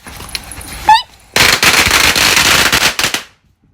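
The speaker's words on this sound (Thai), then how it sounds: "จุดประทัดฮะ" Chinese New Year firecrackers, set off close by, burst into a loud, dense string of rapid crackling bangs lasting about two seconds, preceded by a brief whistling tone and a faint voice.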